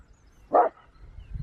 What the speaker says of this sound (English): Don't bark at wildlife, lad.